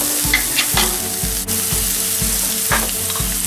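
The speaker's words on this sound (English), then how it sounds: "my pan heating up, and I'm just gonna add in these diced onions first. I'm gonna let these sweat out a little bit." Diced onions sweating in a hot pan, a steady sizzle with a regular stirring or scraping rhythm repeating close by, no voices.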